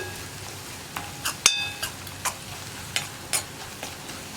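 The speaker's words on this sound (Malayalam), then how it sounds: "അപ്പോൾ ഇനി ഈ വറ്റൽമുളക് ചതച്ചതും ചേർത്ത് നന്നായിട്ടൊന്ന് ഇളക്കി കൊടുക്കുക." Crushed dried red chilli is stirred and fried in a pan over a low continuous sizzle, with spaced scrapes and clinks from the spoon recurring every half second or so.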